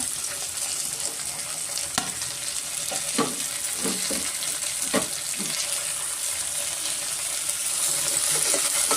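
Beans, carrot, cucumber and peas frying in oil for vegetable mint bath: a steady, close hiss of sizzling oil throughout, with occasional soft knocks and scrapes of stirring.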